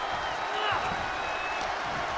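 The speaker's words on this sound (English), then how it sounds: "What a raucous crowd here tonight." Raucous arena crowd noise from a WWE 2K24 wrestling match, a steady roaring wash of cheering with commentary voices over it throughout.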